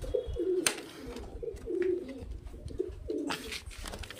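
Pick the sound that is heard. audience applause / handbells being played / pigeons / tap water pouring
pigeons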